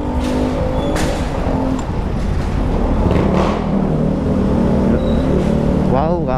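A Honda Beat FI V2 scooter fitted with an APIDO aftermarket exhaust pipe revs and drones loudly from on board while riding through traffic, a rider talking over the steady engine noise.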